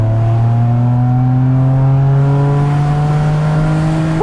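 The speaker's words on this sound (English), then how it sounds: "It definitely tightens up when you give it some gas." A DeLorean accelerates, its engine pitch rising smoothly through a gear with strong, close harmonics and a loud sustained drone, then dipping briefly near the end, with no talking.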